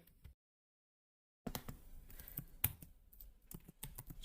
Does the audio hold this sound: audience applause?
no